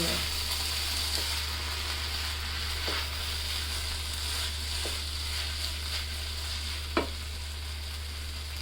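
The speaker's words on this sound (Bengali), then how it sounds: "এবার ঝোলটার সাথে চালটা একটু কষাবো।" Rice is stirred and sautéed with spiced broth in a pan for achari chicken tehari: a continuous soft frying hiss broken by several sharp spatula scrapes, with no talking.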